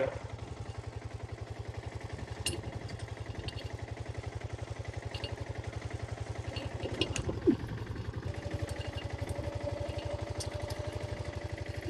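Tractor engine running in a soybean field on a farm, a steady low chugging idle with a rapid even pulse and occasional clanks, moderately loud and continuous.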